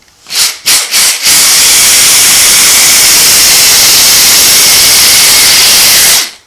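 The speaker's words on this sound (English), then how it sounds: "drill it like that, and it automatically drills it in the center." A few short bursts of a power drill, then a sustained loud, harsh whir as it bites through a metal cap for an engine greaser cup for several seconds before stopping.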